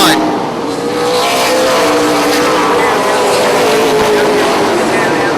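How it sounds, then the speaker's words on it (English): A pack of super late model race cars roars down the front straightaway toward turn one, a loud sustained engine blare with passing pitch sweeps, partly under a commentator's voice. "9 cars, lead pack down the front straightaway to turn 1."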